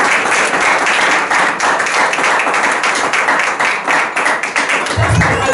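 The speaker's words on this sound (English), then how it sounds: "Give Jesus a clap offering." Church congregation at a missions week service giving a clap offering to Jesus: dense, continuous applause throughout, loud and close, with many hands clapping at once.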